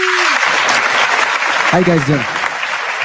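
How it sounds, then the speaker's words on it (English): A podcast audience applauds a DJ with steady, loud clapping that fills the whole stretch, while a voice speaks briefly near the start and again over the middle. "a nice big thunderous round of applause for DJ"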